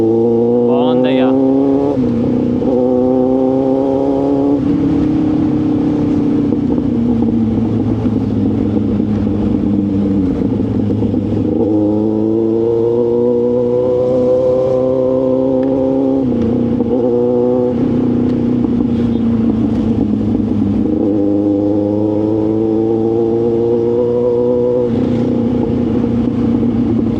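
A Kawasaki Z800 motorcycle engine revs loud and close while riding on the road, its pitch rising and falling through repeated throttle pulls and gear changes, steady under wind noise throughout.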